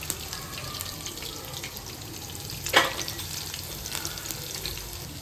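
Chopped onion sizzles in a hot pan while cooking a monsoon spine gourd (kartule) vegetable dish, a steady broadband hiss with a brief louder crackle midway.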